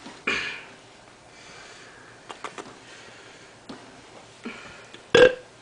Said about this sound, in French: Oh, le chat a roté.